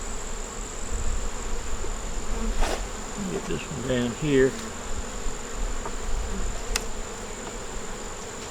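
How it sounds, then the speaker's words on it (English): A faint, steady hum of honey bees at an open hive in the background, with a brief muffled voice and some handling noise partway through. "Get all those bees off the edge."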